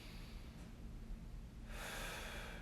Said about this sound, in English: So I'm just breathing in,